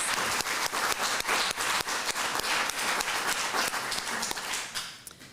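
Event audience claps in a round of applause after a speech on noma and health for all, faint, even clapping from a crowd that holds steady and then fades out.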